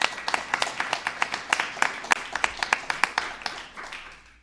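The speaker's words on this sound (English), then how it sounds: "Let's give a round of applause to Amy Smith" Small audience applause at an info session, individual claps clearly separated in a steady patter that thins and fades toward the end, no talking over it.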